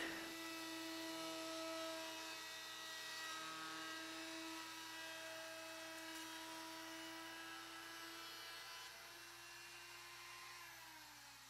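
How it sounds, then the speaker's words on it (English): A freshly bought handheld wood router cuts along the edge of a board held upright in a clamp while a wooden quilt rack is made, giving a steady high motor whine with a constant tone that drops slightly near the end. "hand router it is, plus I just got it, so you gotta use it, right?"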